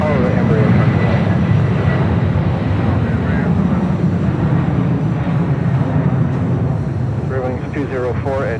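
Aircraft engines roar steadily at Los Angeles International Airport, a loud continuous rumble filling the whole stretch, with voices talking intermittently over it.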